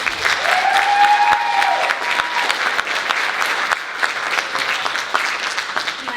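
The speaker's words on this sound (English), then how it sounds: "How about another round of applause for you guys?" Loud, dense applause from an audience in a regional school performance hall, sustained for several seconds with a faint whistle early on and steady clapping throughout.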